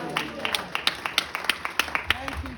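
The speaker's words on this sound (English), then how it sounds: "Give the Lord a good clap." Church congregation clapping in a steady rhythmic beat, sharp regular claps over a quiet room with faint voices underneath.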